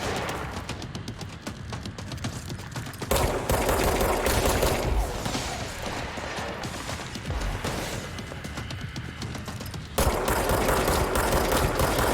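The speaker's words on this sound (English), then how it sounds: "Who is shooting at me?" Rapid automatic gunfire aimed at the player in the video game Control, dense bursts of shots and impacts with sudden loud jumps in intensity, crowding the soundtrack throughout.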